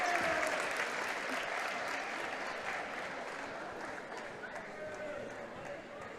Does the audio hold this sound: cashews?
no